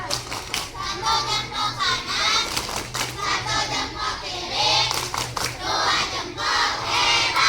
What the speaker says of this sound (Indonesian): Tepuk anak hebat.